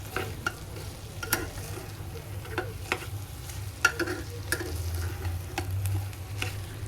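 Rice with chopped coriander being stirred and fried in a pan for soda bhat, giving a steady low sizzle with repeated scraping taps of the spoon, quiet and close, with no voices.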